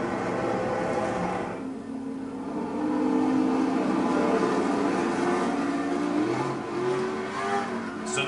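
Pro 2-wheel drive off-road race trucks with Toyota engines race past, a continuous loud engine roar that rises and falls as they rev and accelerate, with no talking.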